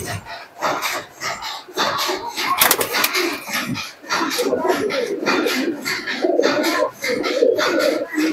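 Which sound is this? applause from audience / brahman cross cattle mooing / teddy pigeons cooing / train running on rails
teddy pigeons cooing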